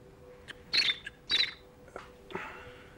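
A man imitates a pied flycatcher's song with a few sharp, high whistled chirps in two main bursts, then some fainter clicks, close and fairly quiet.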